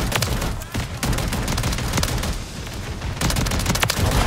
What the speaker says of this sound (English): The beauty of this shotgun specifically is you can get away with hip firing and ADSing since it's automatic